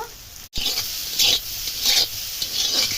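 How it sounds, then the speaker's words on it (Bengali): Snake gourd with boiled eggs, salt and turmeric being stirred and fried in a pan, a constant close sizzle with rhythmic scraping strokes of a spatula, no voices. "ভালো করে নাড়িয়ে চাড়িয়ে ভাজিয়ে নেব"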